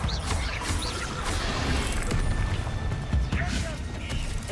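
In Hogwarts Legacy, a Bombarda spell is cast amid a dense, loud clatter of magical combat, with crashing impacts and sharp bursts layered over a constant rumbling din and a few spoken voices.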